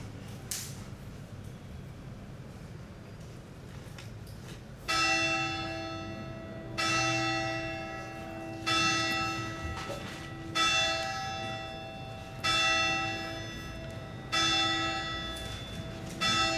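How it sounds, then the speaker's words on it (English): A bell rings in slow, regular strokes, about one every two seconds, each ringing tone decaying before the next, following a few seconds of low room noise. "I'm waiting for the bell to end."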